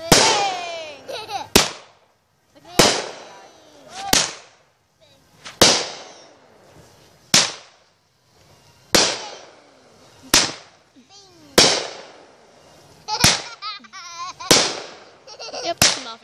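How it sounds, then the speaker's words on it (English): A Mafia 25-shot firework cake fires its shots one after another at regular intervals of about a second and a half, each a sharp report followed by crackling and whistling tails, with voices heard between bursts. "Pretty sure this is Mafia. I'm excited. I think this one's 25 shots. Our first cake."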